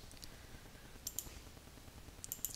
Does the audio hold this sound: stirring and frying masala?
no